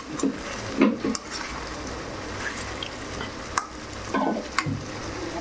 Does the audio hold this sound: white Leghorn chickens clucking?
no